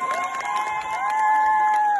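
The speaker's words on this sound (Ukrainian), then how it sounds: "а ну давайте підбурлюємо оплески" A crowd at a concert dance battle between generations cheers loudly, with a long high sustained shout ringing over the general noise of the audience.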